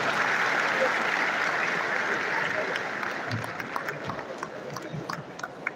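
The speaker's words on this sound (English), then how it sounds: "another resounding round of applause for Professor Bello" An audience at an academic lecture applauds Professor Bello, a thick, loud wall of clapping that gradually thins into scattered individual claps toward the end.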